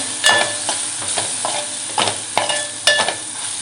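Red chilli powder, coriander powder and turmeric stirred into a sizzling pan for a Konkan dry fish curry, with repeated close spoon scrapes and knocks over a constant frying hiss.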